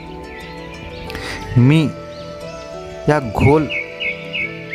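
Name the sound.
birds chirping on a hillside near a temple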